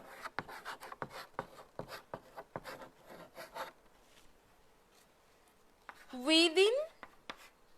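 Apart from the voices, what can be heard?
writing by hand during a lesson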